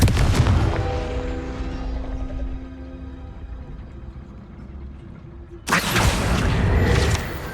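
A Confringo blast spell explodes in the video game Hogwarts Legacy: a loud booming burst opens and rumbles away slowly, then a second sharp blast hits about two-thirds of the way through and rings out.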